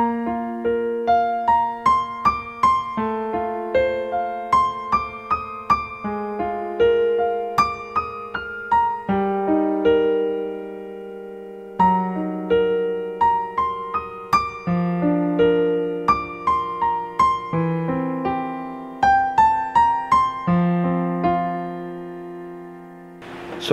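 Piano chords played with both hands, left-hand bass notes under right-hand chords, struck in a steady rhythm with each chord ringing and decaying before the next, clear and close with no talk.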